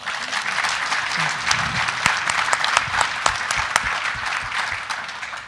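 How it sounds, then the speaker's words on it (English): Conference audience at a timberland investment event applauds donors, supporters and partners, a sustained patter of clapping with a few sharp, close claps standing out, lasting over five seconds. "give a round of applause for all our donors, supporters, and partners"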